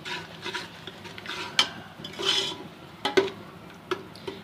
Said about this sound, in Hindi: तमाम मसाले डाले और इसको हम अच्छा सा जो है ना वो भुनाई करेंगे इसकी